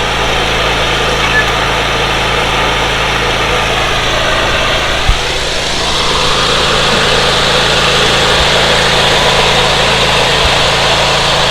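A Skag mower engine runs loud and close at a steady idle while the mower is loaded onto a dump trailer, with its drone unbroken from start to finish.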